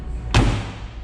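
A car door on a 1980 Maserati Merak SS is swung shut, giving a single close, solid thud with a brief low rumble afterward. No voice is heard.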